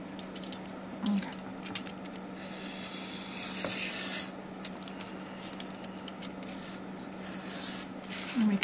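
A blade cuts paper pages along a ruler for a miniature book. It gives soft, close scraping and rubbing strokes, with a longer drawn-out scrape in the middle, over a faint steady hum.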